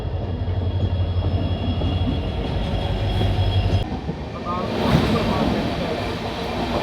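Shri Ganganagar–Delhi Intercity Express hauled by an electric locomotive, a steady rumble of a moving passenger train with rail clatter and wheel noise, continuous and fairly loud throughout.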